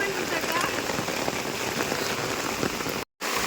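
Heavy rain pours steadily during a cyclone in Kalambusare village, a dense, even hiss of drops striking surfaces close by, broken only by a brief cut near the end.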